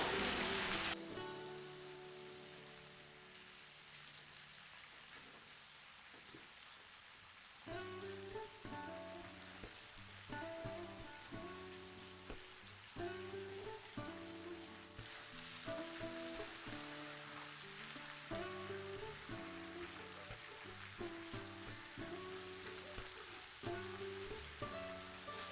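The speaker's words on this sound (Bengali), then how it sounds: "চিংড়িটা খুব বেশি ভাজার দরকার নেই, এটা আমি কিছুক্ষণ উল্টে পাল্টে ভেজে নিয়েছি" Prawns fry in oil in a pan, a steady bed of crackling sizzle running throughout, overlaid with background music.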